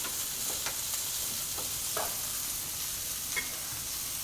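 Blackened steaks sizzling in a hot pan as they come off the heat, a steady hissing fry with a few soft clinks and scrapes, moderately quiet and without talk.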